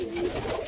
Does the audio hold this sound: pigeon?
yes